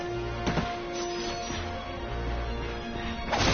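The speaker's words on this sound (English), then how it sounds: "Look at him smashing crates." Wooden crates smashed in the video game Ratchet & Clank, a few crisp breaking cracks heard over steady game music and background effects, moderately loud and continuous.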